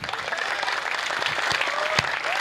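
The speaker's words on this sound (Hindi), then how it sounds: "हाँ, एक बार जोरदार तालियां हो जाए।" An audience at a poetry recital applauds steadily, a dense crowd clapping with a few sharp, louder claps standing out near the end.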